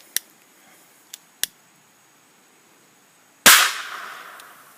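A big HHO generator's gas ignites in a single sharp, loud bang like a gunshot, ringing off with a decaying tail, preceded by a few faint clicks.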